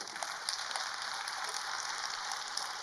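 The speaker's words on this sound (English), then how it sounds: "big clap to Osho, Rajneesh." Faint, steady applause from a distant audience at a spiritual gathering honouring Osho Rajneesh, a continuous patter of many hands without speech.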